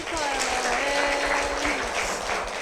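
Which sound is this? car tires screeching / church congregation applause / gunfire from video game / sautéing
church congregation applause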